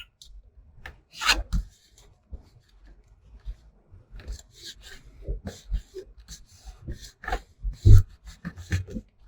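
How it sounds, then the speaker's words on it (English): Paper being burnished down onto a handmade mini album, a series of short rubbing and scraping strokes in irregular bursts, close and moderately loud, with no talking. "And then go ahead and burnish that down"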